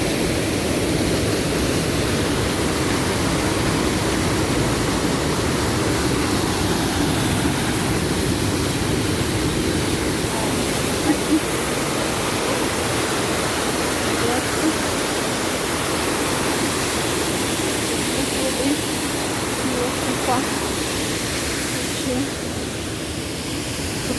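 Rhine Falls waterfall roars as a dense, unbroken wash of rushing water, loud and steady throughout with no pauses, filling the whole scene.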